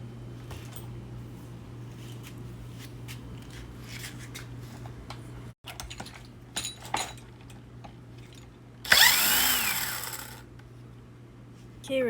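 A power tool spins off a wheel nut during an inner hub replacement: one loud whirring burst of about a second and a half, with some clinks of metal parts and a steady low hum around it.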